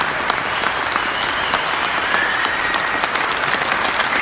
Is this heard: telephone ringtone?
no